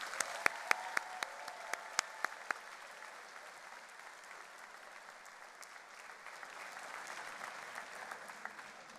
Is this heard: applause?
yes